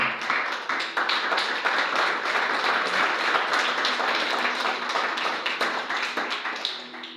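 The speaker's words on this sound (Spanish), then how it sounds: "Daré un aplauso al Señor" A church congregation applauds continuously during a worship service, a dense wash of many hands clapping at steady volume before tapering slightly at the end.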